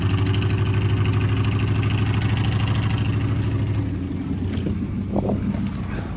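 A farm feed truck's engine runs steadily after being put in gear, a loud low drone for about four seconds that then drops and softens, with wind buffeting the microphone throughout.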